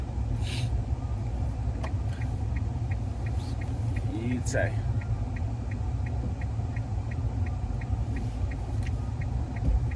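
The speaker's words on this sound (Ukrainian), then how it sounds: "Ну дивись, їдуть машини" Cars drive past on a road beside a home smokehouse, a steady low rumble with a brief squeal, while people talk over it and a faint regular ticking runs underneath.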